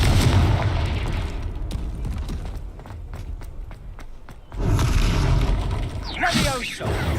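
A Confringo blasting spell explosion in Hogwarts Legacy, booming bursts amid rapid clattering impacts and combat effects, loud and close, with a whooshing magical sweep near the end.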